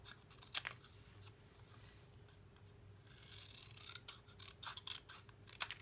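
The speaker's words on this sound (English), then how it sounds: "Then I'm going to take my scissors and just cut." Scissors snip through 6x6 patterned craft paper for a purse-shaped treat holder, making faint, close rasping cuts in a few short bursts against a quiet room.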